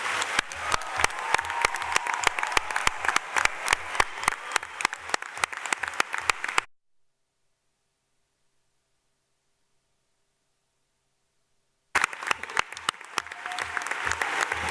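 Sustained applause from a hall audience honouring graduates at a university graduation ceremony, loud and continuous for several seconds, cutting to total silence, then resuming.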